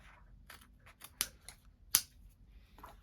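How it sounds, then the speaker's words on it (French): Scissors cut the corner of the main fabric for a sewn rectangular bag, a few quiet, close snips with two sharper clicks of the blades. "Voilà, je coupe mon angle."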